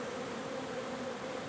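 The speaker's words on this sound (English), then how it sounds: "just a look at my bees" Honeybees buzz around their hive in November sunshine after a cold October, a close, continuous droning hum with a steady pitch and no voices.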